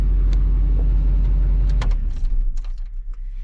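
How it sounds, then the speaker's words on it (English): A Duramax LBZ diesel truck engine runs loud and close with a deep, heavy rumble that settles from a high idle into a lower, uneven idle, with a few clicks and knocks over it. "let it get back down to idle and then I'll shut it off"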